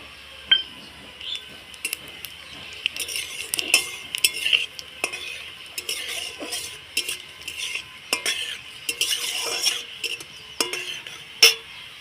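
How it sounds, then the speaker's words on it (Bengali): Spices such as small cardamom pods, a dried chilli and cumin tempered in hot mustard oil in a pan, with spoon stirring and metal scraping clinks over a soft background sizzle, moderately close and intermittent. "আমি এই সরিষার তেলটা আমার গরম হয়ে গেছে ফোড়নে দেব চারটে ছোটো এলাচ একটা শুকনো লঙ্কা আর জিরে"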